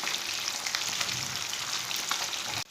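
Pieces of Lahori-style fish fry in hot oil in a pan, giving a continuous dense sizzle with crackles and faint stirring scrapes, close and steady, with no talking.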